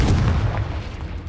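Confringo explosive spell from the Hogwarts Legacy video game, a single heavy booming blast at the start that rumbles and decays quickly over about a second.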